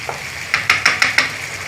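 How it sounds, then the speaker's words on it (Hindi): Masala frying in a pan for dum kabab, a steady close sizzle punctuated by five rhythmic scraping stirs, with no talk. "ये देखें, ये मसाला काफ़ी तैयार हो गया, भुन गया है।"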